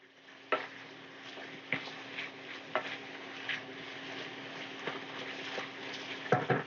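About a teaspoon of minced garlic fries quietly in a pan, a soft continuous sizzle under a faint steady hum, punctuated by a few clicks and taps of a utensil stirring against the pan.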